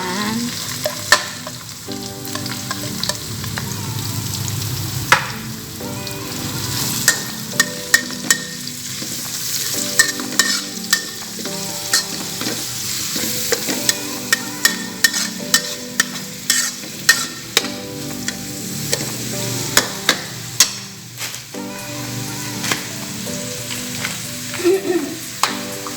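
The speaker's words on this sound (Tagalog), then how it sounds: "Haluin lang po siya para hindi masunog." Homemade spaghetti sauce is stirred in a sizzling pan, the utensil repeatedly clacking and scraping against the metal over a continuous frying hiss, close up and fairly loud with no talking.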